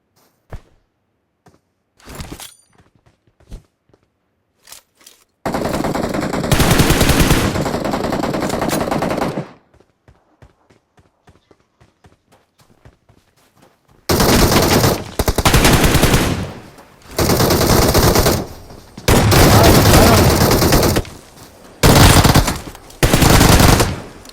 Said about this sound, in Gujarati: ઉભો રે મને બંદૂક લેવા દે